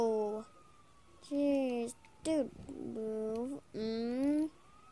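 An ambulance siren in the video game GTA 5 wails in repeated rising and falling sweeps, loud and close, with short pauses between bursts.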